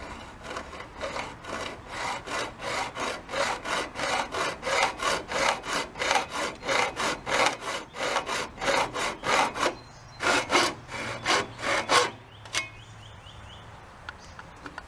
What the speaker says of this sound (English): I'm just going to hacksaw it carefully along this line.